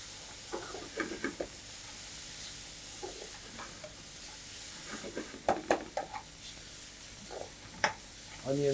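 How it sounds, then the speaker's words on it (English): Ginger, garlic and chili fry in a pan with a soft, steady sizzle, broken by scattered scrapes and clinks of stirring, set back and fairly quiet. "Now we'll just let the ginger, garlic and chili to cook for some time."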